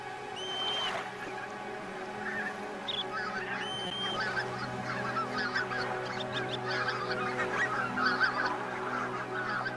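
A flock of one-year-old geese honks repeatedly from a short distance on Siberian backwaters, overlapping calls scattered over a low steady engine-like drone.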